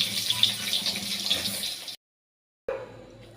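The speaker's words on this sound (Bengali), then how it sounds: "আলুগুলো আগে ভেজে নিই" Potatoes frying in hot oil give a steady, close sizzling hiss that cuts out abruptly for a moment, then resumes more softly.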